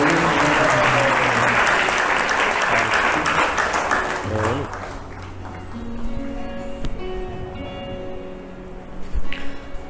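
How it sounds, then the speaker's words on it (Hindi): Loud audience applause at a Bhagwat katha gathering in a Delhi Gaudiya Math fills the first few seconds, then fades into scattered claps and sparse talk. "इनके लिए ताली बजाओ"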